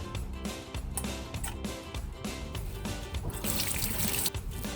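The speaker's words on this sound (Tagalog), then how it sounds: "So, hugasan lang natin ito para matanggal yung kanyang mga," Sea coconut being rinsed under a running tap at a kitchen sink: a steady close stream of water splashing with bubbling and brief splashes as the pieces are handled.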